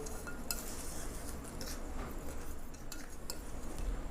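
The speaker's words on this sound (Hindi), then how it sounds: "अब हम इसको अच्छी तरह मिक्स करेंगे।" Biryani masala spices and about 100 grams of dried plums (aloo bukhara) being mixed in a bowl, with steady light clinks and scrapes running throughout at close range.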